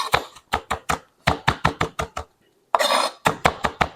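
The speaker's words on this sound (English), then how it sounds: "I mean, I'm chopping them." A knife chops vegetables for guacamole on a cutting board in sharp, rapid bursts of close, crisp strikes, broken by a short pause and a brief scraping sweep before the chopping resumes.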